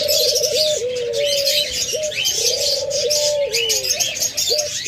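Hybrid doves coo in a steady run of low, rounded calls, close and continuous, with brighter bird chirps chattering above them throughout.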